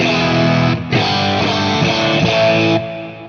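A Headrush guitar processor plays a minimal ambient tone with delay and reverb, sustained chords ringing loud, re-struck after a short gap and then trailing off into a soft tail.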